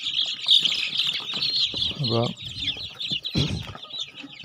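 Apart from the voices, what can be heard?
Gramalakshmi and Sonali chicks chirping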